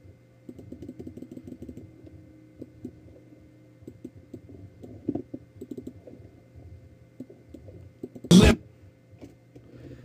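Computer keyboard keys click in irregular bursts of typing close by, light and uneven, broken near the end by one loud thump.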